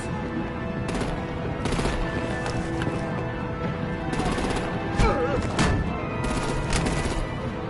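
Gunfire in the Batman The Enemy Within video game sounds as repeated rapid bursts of shots and impacts over a dense, rumbling action soundscape, with voices speaking at times.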